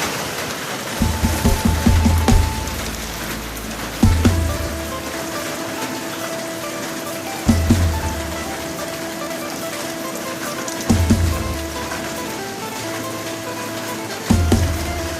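Steady heavy rain from a tropical depression hisses continuously, with a few dull low thumps recurring every few seconds underneath.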